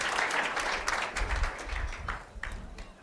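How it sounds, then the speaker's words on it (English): Applause from a seated audience at a public talk in Auckland, a burst of clapping that swells and then thins out over a few seconds, moderately distant in a hall. "a round of applause, please, for Mayor Phil Goff"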